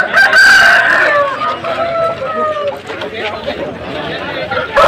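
Roosters crow and chickens cluck amid a busy Sunday poultry market in Vijayawada, a loud near crow opening over steady crowd chatter and people talking nearby.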